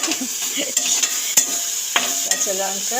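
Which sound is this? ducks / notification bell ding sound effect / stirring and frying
stirring and frying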